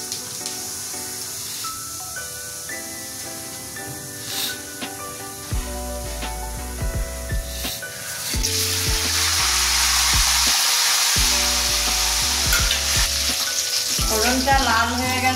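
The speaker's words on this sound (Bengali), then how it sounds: "এতে তেজপাতা আছে, শুকনো লঙ্কা, দারচিনি, ছোট এলাচ আর লবঙ্গ সব একসঙ্গে ফোড়ন দেব কয়েকটা সাদা জিরের সঙ্গে" Whole spices such as bay leaf, dried red chilli, cinnamon, green cardamom, cloves and cumin seeds sizzle in hot oil, a steady crackling hiss that swells louder midway, with bright clinks and music underneath.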